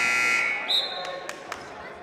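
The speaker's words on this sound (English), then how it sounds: "I heard a buzzer." A buzzer sounds briefly at a women's college basketball game in an indoor gym. Sharp ball bounces follow amid the arena's ambient noise, with no one speaking.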